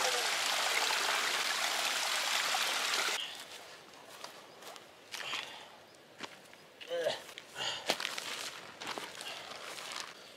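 A small stream flows in the wilderness, its steady rushing loud for the first few seconds, then giving way to quieter trickling with footsteps and handling noises nearby.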